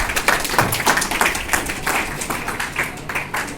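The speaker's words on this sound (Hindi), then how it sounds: "ताली बजाओ भाई।" A small group claps at a college entrepreneurship club meeting. Distinct, fairly quick, rhythmic hand claps repeat evenly throughout at a moderate level, with no speech over them.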